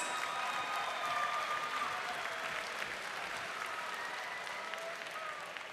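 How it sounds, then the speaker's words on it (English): Sustained crowd applause fills the arena for two mixed martial artists after a hybrid-rules bout, a steady dense wash of clapping at moderate distance with no clear voices. "can we please have a round of applause for these two mixed martial artists?"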